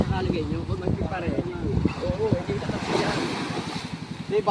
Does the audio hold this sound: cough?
no